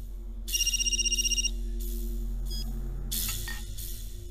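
A phone rings with a short, rapid trilling electronic tone lasting about a second, fairly close, set against a steady low background hum, followed by softer rustling and a second brief burst of sound.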